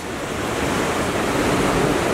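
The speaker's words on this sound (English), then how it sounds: "There's no big drops, just more frothy water, fast moving water." Fast, frothy whitewater on the Irondale-Burnt River rushes as a loud, continuous broadband roar close by, with no voices.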